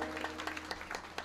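Applause from the audience at a Krishna Janmashtami harinaam saptah religious gathering in a village, a faint, steady patter of many hands clapping at a distance.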